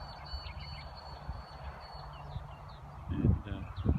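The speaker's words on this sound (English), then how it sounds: "A lot of bird life, as you can hear probably in the background." Wetland birds such as pelicans and ibis give low honking calls that grow louder in the last second, set against a steady murmur of background outdoor noise and faint distant chirps.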